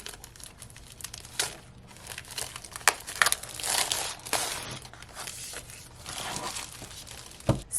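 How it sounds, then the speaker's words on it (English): Crinkling and tearing of plastic shrink wrap pulled off a Colorit coloring book, with irregular close crackles and rips that swell and fade in bursts, no talking. "So let's go ahead and just take the plastic off."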